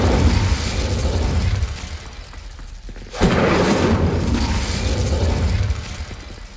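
An Incendio fire spell cast in Hogwarts Legacy bursts with a loud whooshing flare partway through, a sudden roaring swell over a rumbling game backdrop that then settles into a sustained burning rush.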